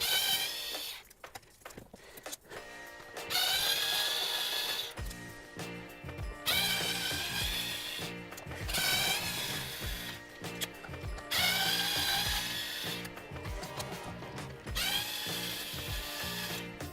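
Small screws being removed from the dash of a Honda VFR800 motorcycle with a ratcheting tool, giving repeated close, loud bursts of ratchet clicking separated by short pauses.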